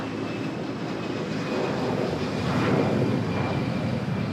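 An airplane taking off at Manila Airport rumbles close by in a steady broad roar with a thin high whine, growing slightly louder across a few seconds.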